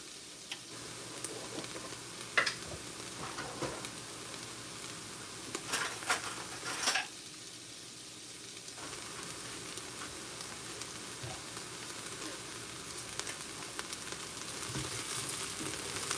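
Chopped onions sweat gently in a soup pot, giving a faint, steady sizzle and light crackle that runs the whole time, with a few brief stirring scrapes and clinks against the pot in the middle.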